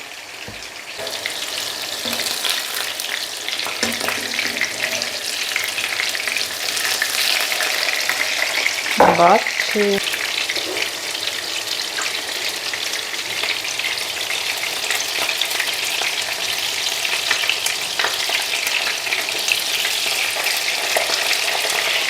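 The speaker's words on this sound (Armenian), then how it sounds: "Տապակվի, ասեմ, որ վատ չի լինում" Fish cutlets fry in a hot pan with a steady, dense sizzle that holds throughout. A brief clatter sounds midway, and a short spoken remark rises over the frying.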